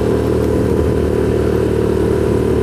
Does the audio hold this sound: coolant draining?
no